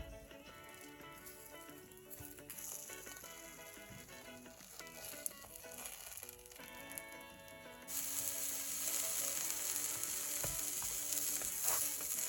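Gozleme cooking in a pan on a stove, a soft steady sizzle with clicks and scrapes of handling, growing louder and brighter partway through.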